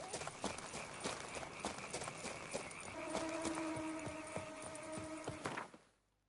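Steady rhythmic clip-clop of horse hooves at a trot in the video game The Witcher 3: Wild Hunt, with music playing underneath, ending abruptly.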